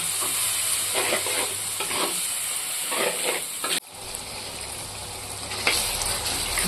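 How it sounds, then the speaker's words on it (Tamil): Ground tomato paste sautéing in oil for a Tamil fish curry, with a steady sizzle and frying hiss, a few stirring scrapes, and a brief pause partway through before the sizzling resumes. "எண்ணெய்லாம் நல்லா திரும்பி வந்துடுச்சு தக்காளி போட்டு நல்லா வதங்கி வந்துடுது"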